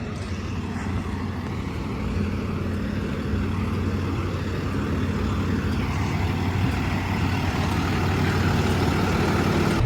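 A hooklift truck's engine idles in a steady, loud, low rumble that holds unchanged throughout, with no talking over it.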